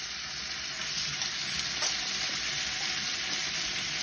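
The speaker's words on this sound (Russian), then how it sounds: "Ветчина будем жарить." Steady crackling sizzle of ham frying in vegetable oil in a hot pan, continuous and close with no voices.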